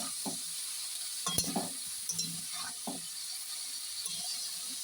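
Malabar spinach, pumpkin and potato are stirred while frying in a pan, with a soft steady sizzle and quiet irregular scrapes and clinks of a utensil against the pan, fairly faint, with no talking.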